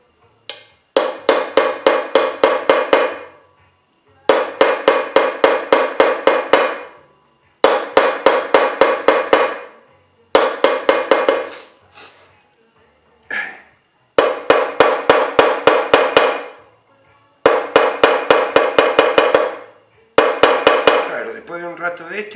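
A ball-peen hammer strikes metal in rapid blows, ringing out in about eight quick bursts, each a fast run of sharp strikes separated by short pauses, loud and close, as in chasing work.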